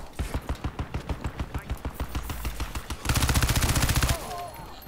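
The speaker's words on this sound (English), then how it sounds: "Oh, I'm getting shot." Gunfire in a Crysis 3 multiplayer match: a rapid series of sharp shots in steady bursts, then a denser, louder automatic volley before a short electronic warble, close and dominant.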